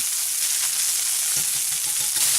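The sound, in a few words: goetta meat frying and crisping in a pan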